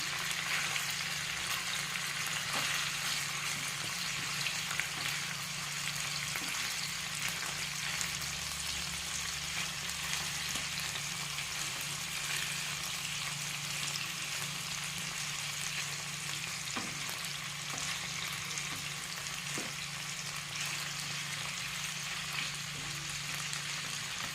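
Chicken pieces fry steadily in a pan, a continuous close hiss of sizzling oil running unbroken with a low hum beneath and no talking.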